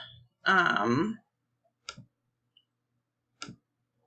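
A computer mouse clicks twice, sharp and isolated, with a long gap between presses, after a short burst of someone talking.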